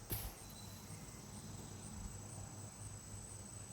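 Steady high-pitched insect chirping fills the air outdoors at night, a continuous drone with a brief knock at the very start.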